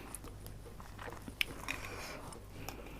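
Someone eating steamed rice with spicy Thai papaya salad and grilled chicken skin, close, quiet chewing and crunchy bites in an irregular rhythm.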